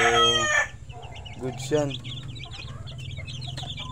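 Chickens of the black gold breed on a Philippine poultry farm cluck and crow close by, with a loud crow at the start and then scattered clucks and chick peeps, as someone talks briefly over them.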